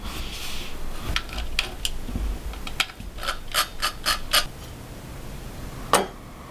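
The inner housing of a 1946 Ford speedometer cluster pulled out by hand, producing a series of close, small metallic clicks and ratchety scrapes over a quiet room hum.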